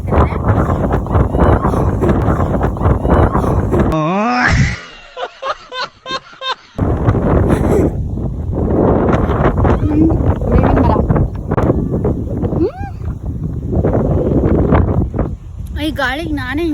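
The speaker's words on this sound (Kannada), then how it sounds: "ಬರೀ ಗಾಳಿ ಸೌಂಡೇ ಕೇಳಿಸಿರ್ತಿರುತ್ತೆ" Strong wind in an outdoor village setting buffets the microphone as a loud, continuous rumble through most of the span, easing briefly in the middle while voices talk over it.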